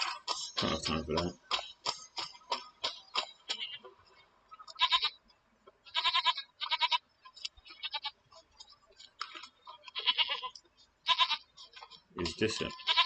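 Goat bleating in The Witcher 3, short repeated cries with ticking, clicking game sounds around them, fairly close and spread across the whole stretch with pauses between calls.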